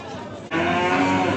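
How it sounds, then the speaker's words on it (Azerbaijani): Calves and cattle at a livestock market in Beylagan; a sudden close, drawn-out moo breaks in midway over the background murmur of the market. "Bu belə danalar var, saxlanca gedən mallardır."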